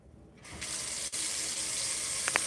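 A tap runs water in a steady, continuous gush that starts about half a second in and stays close and fairly loud throughout, with no talking.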